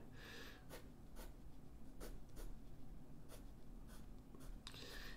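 Graphite pencil scratching across paper while a detailed landscape of a bridge is drawn in perspective, with steady soft shading strokes and several sharper, distinct marks spread through the passage.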